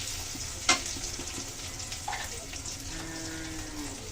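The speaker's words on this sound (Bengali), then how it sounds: "সামান্য একটু হলুদ দিয়ে নিলাম, ভালো করে একটু ভেজে নেব।" Potatoes with a little turmeric fry in oil in a pan with a steady soft sizzle, a sharp clink of the utensil near the start and a few light stirring scrapes, close but fairly quiet.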